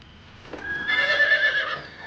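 A horse in a Chinese historical drama, The Rebel Princess, lets out a loud, close whinny after a brief thud, the high, wavering call lasting about a second before trailing off, with no talk over it.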